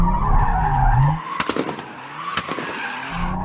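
A Toyota Supra TRD slides sideways with tires skidding in a loud, close screech. The engine cuts out partway, then sharp pops and bangs follow from the exhaust before the squeal returns.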